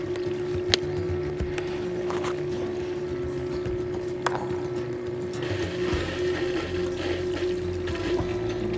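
A filter pump starting up in a DIY stock tank pool, giving a steady hum with water circulating and splashing close by, a few faint knocks over the continuous flow and no talking.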